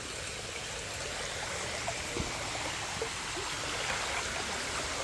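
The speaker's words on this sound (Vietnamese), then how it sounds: "năm nay bây giờ nước đã tràn như là suối luôn rồi" Flood water from a record high tide in Ben Tre pours over dikes like a stream, a steady, continuous rushing flow with no talk.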